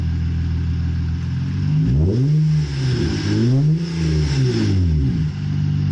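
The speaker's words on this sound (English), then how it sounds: "We got that custom exhaust. Why don't you give her a little rev for everybody?" A car with a custom exhaust idles with a deep rumble, then is revved in two rising-and-falling swells, loud and close, before settling back to idle.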